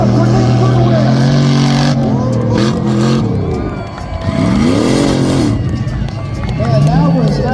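An off-road race truck roars at full throttle around a slick dirt track at a night event in Red Bluff, California, the engine revving and shifting loudly while an announcer talks over it.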